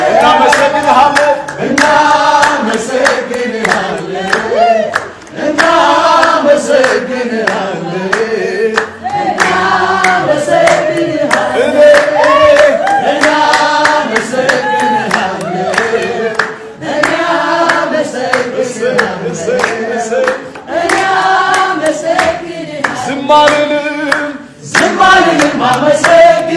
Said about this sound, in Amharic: ዛሬ የታለ ጭብጨባችሁን